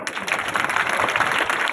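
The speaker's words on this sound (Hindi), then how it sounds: "बजा दो उनके लिए ताली।" An audience at a chief minister's public dialogue event in Rewari, Haryana claps steadily in a dense, sustained burst of applause.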